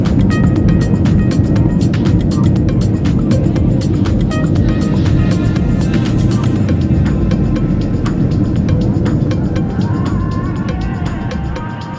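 Inside an airliner taxiing on the tarmac before takeoff on a Chongqing to Guangzhou flight, a steady, loud cabin rumble runs throughout with faint clicks, easing slightly at the end.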